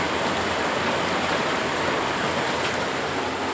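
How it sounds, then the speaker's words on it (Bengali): Steady, dense rain falls throughout at even loudness, a continuous wash with no voices. "বৃষ্টির ধারাটা একবার দেখিয়ে দেবে আকাশের অবস্থাটা দেখুন বৃষ্টির ধারাটা বুঝতে পারবেন কী অবস্থা"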